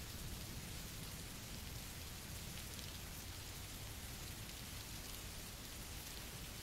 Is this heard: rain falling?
yes